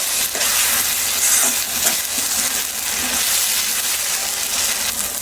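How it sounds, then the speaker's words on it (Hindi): Ground tomato with spices frying in oil in a pan for a suran curry, a dense wet sizzle with faint stirring scrapes, steady and close, no one speaking. "अब इनमें हम डाल देते हैं जो हमने टमाटर पीस के रखा था वो। अभी हम अच्छे से भून लेते हैं।"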